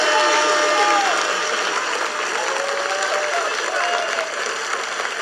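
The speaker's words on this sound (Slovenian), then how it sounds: "Tako da prosim, en aplavz za našo županjo!" Applause and cheering from a crowd at a lively local party, greeting the mayor; sustained clapping with crowd noise and scattered voices and tonal calls mixed in, loud at first and easing slightly.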